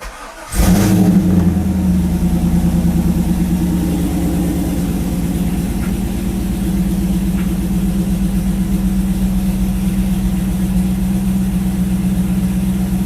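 A C5 Corvette engine cranks and catches within the first second, then settles into a loud, steady, close-up idle that holds with a constant low rumble.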